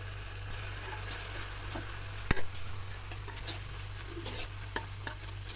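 Turmeric, chili and coriander powder for fish curry are stir-fried in a pan, with a soft continuous sizzle, a sharp metal clack from the spatula and scattered light scraping taps.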